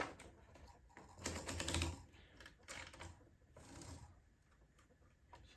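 Paper is fed into a Smith Corona tabulator typewriter, giving faint, irregular mechanical clicks and short rolling ratchet bursts from the platen, with quiet pauses between.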